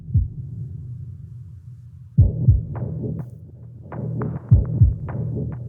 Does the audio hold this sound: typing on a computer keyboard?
no